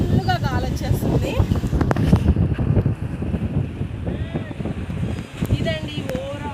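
Strong wind blows across open water at Kinnerasani dam, a steady, loud rushing roar that buffets the microphone throughout, with faint voices underneath.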